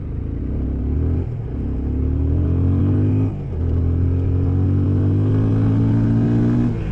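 A Yamaha FZ25 motorcycle accelerating hard from standstill toward 100, its engine note climbing steadily through the gears with a brief dip at a gear change, loud and close, with no talking.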